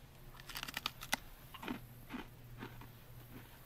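Close crunching bites into a battered, fried catfish-type fish tail caught in a swamp, a quick burst of crisp cracks followed by softer, spaced chewing crunches over a low background hum.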